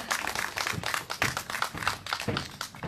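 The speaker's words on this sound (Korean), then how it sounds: "우리 도한영님 큰 박수를 한번 모셔보도록 하겠습니다" Crowd applause welcoming a speaker at a candlelight rally in Seongju, a dense, steady patter of many hands clapping at close range.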